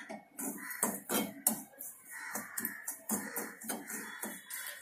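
Semolina (rava) frying in ghee in a pan, heard as close, rhythmic scraping and light metallic clinks of stirring, repeated in short strokes.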